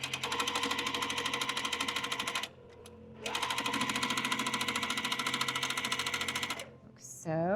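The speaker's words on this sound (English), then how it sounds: "make a careful 1/4 inch seam" A sewing machine stitches a careful quarter-inch seam on a pinwheel quilt, running in two long, steady bursts of rapid stitching separated by a short pause, close and loud.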